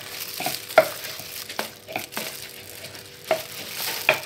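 Cilok dough mixture of flour, salt and seasoning being stirred and mixed by hand in a bowl, with soft irregular scrapes and knocks, close and fairly quiet, no talking.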